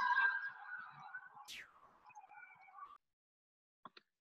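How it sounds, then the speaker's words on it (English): An ambulance siren sounds as the vehicle drives past outside a flat, a wavering tone with a quick pitch sweep that holds for about three seconds and then cuts off, followed by near silence and a couple of faint clicks. "an ambulance drove past my flat and it was quite loud"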